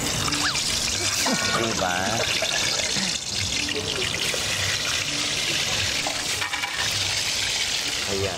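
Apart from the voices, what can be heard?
washing rice under running water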